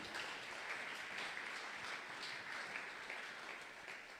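A church congregation at a Sunday service claps and cheers, a steady, dense wash of applause heard from some distance that holds throughout.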